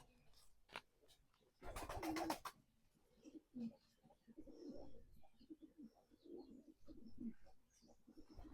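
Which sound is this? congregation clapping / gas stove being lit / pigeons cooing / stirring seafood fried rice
pigeons cooing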